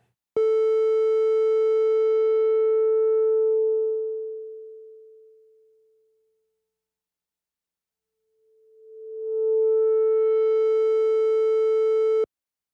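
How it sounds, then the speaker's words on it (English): A steady synthesizer tone darkens and fades to silence as its filter closes, then brightens again as the filter sweeps back open before cutting off. "That's just the cutoff frequency being manipulated."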